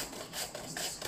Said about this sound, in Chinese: 我们可以这样的断切面的方式把它擦丝儿啊，一个大萝卜马上就可以